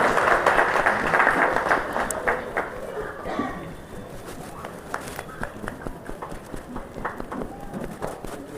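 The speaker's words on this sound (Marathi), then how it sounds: "जोरदार टाळ्या झाल्या पाहिजेत." At a book launch event, an audience claps in a fairly loud round of applause that thins within a few seconds into scattered, sparse claps.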